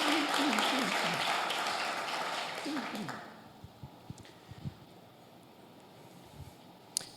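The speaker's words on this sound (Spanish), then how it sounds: "Reciban el aplauso de bienvenida de la gente que está hoy aquí reunida" Applause from a church congregation welcoming guests, broad and loud for about three seconds, then fading into scattered late claps and quiet room noise, with a voice briefly heard over the start.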